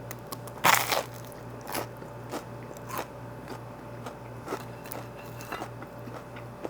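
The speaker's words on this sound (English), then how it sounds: "Crunchy, you can hear the crunch when I take the bite." Crisp crunching bites on toasted bread, one sharp loud crunch followed by several quieter chewing crunches, close up over a low hum.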